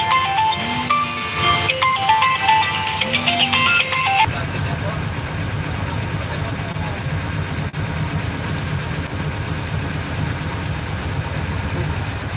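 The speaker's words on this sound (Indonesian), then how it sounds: "ada masuk telepon ya, jadi agak ada gangguan dikit tadi" Phone ringtone of an incoming call chiming in a repeating melodic pattern for about four seconds beside an idling bus or vehicle at a coachbuilder, then cutting off and leaving only the steady low engine rumble.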